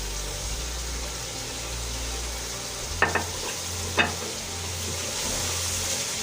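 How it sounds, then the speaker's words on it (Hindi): Spinach is stirred into masala frying in a pan for chicken gobhi palak, a steady close sizzle with two sharp scraping knocks of the spoon partway through. "मसाला हमारा अच्छी तरीके से भून चुका है। इसमें हम पालक ऐड करेंगे।"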